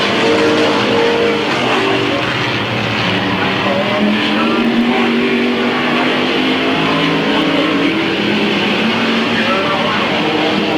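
Stock race cars roar around Midvale Speedway in 1995 as the winner, car number 2, comes out of turn 4, with loud continuous engine drone and gliding pitch sweeps as cars pass close by, a commentator talking over it.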